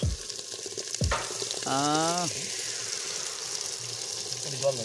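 Masala paste for handi chicken fries over a charcoal fire, stirred with a wooden stick. It makes a steady close sizzle with scraping stirs and a brief tonal squeal partway through.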